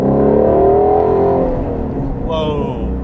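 A Ford Mustang GT350 engine at full throttle roars loudly and steadily, with its pitch climbing and then settling into a sustained high-power drone; no one talks over it.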